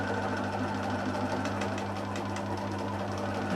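A 1008 sewing machine stitching fabric for a beach hut pouch, a steady close mechanical whir with a rapid even needle rhythm and a low motor hum, no talking.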